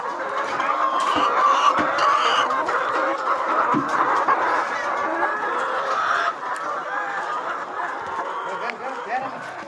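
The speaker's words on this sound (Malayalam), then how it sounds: "ഇതെല്ലാം നാടൻ കോഴികളാണല്ലേ?" Native country chickens cluck steadily at a chicken farm in Azhikode, Thiruvananthapuram, a dense flock chorus with brief sharper calls, under occasional talk.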